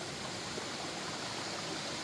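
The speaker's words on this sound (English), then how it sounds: "right next to what is a raging river for them." A raging river in the Fairyland area of Virginia roars beside a mountain trail, a steady, dense broadband rush of whitewater that stays loud and unbroken throughout, with no voices.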